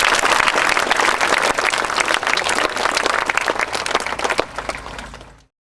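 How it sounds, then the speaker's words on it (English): A large audience applauds loudly and steadily, a dense wash of clapping that eases slightly before cutting off abruptly. "We give her a round of applause"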